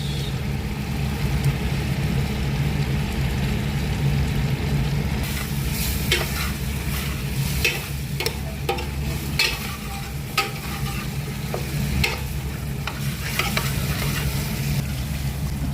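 Tomato paste is stirred into spiced chicken frying with bay leaves, cardamom, cloves and red chili. A constant loud sizzle runs throughout, and sharp scraping stir strokes come in the second half. No one speaks.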